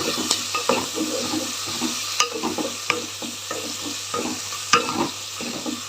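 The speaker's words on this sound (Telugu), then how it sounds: "ఇప్పుడు కలిపేద్దాం బాగా కలిసేలాగా కలిపేద్దాం" Finely chopped tomatoes stirred in a hot frying pan for an ivy gourd masala curry, with a steady close sizzle broken by irregular scraping and tapping of a spoon against the pan.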